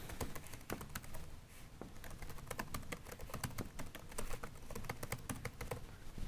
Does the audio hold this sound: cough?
no